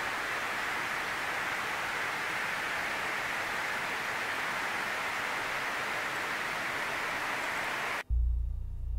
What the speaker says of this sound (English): What I also prepared are two additional tracks, a white noise and a deep bass sound.